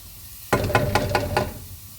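Garlic hitting a hot pan bursts into a sudden sizzle, followed by several rhythmic scraping stirs under a crackling fry before it fades.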